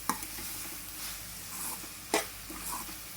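Andhra-style vada curry masala sizzles gently on a low flame, with soft steady frying hiss broken by a few sharp scraping clinks of a spoon stirring the pan.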